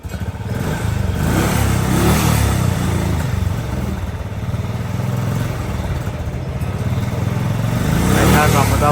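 An old Royal Enfield Bullet motorcycle engine runs steadily after being started, a loud continuous low thumping idle with clattery mechanical noise, while voices talk over it.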